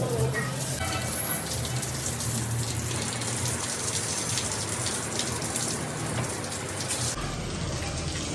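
Running water gushes and splashes steadily as a car is washed at home in Surat after the walls and floors are cleaned, a continuous rain-like spray heard alone without voices.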